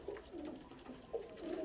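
A pigeon being inspected by a breeder gives soft, low cooing, a few quiet rumbling calls close by over faint background noise.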